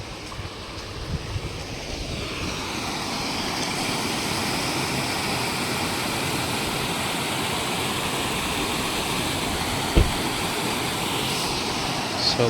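Water rushing at Baliya dam, a steady broadband roar like a waterfall or heavy flow, continuous and fairly loud with a single sharp knock near the end.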